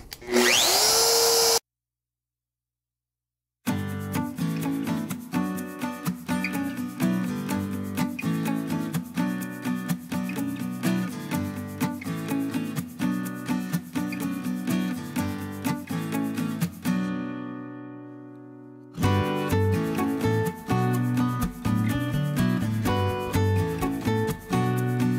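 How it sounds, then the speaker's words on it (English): A power tool cuts into a wooden box in a countryside workshop: a steady, loud mechanical whine with rapid gritty chatter runs in two long passes, broken by a short silence near the start and a brief spin-down between them. "Now I'm going to go in and cut this box."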